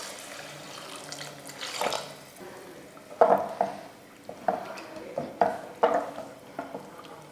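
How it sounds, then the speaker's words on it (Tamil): Water poured into a cooking pan of tomato-based idli kulambu, a running splash with several sharp metallic clinks and knocks from the pan and utensils, close and moderately loud. "இப்போ தேவையான தண்ணி சேர்த்துருவோம்."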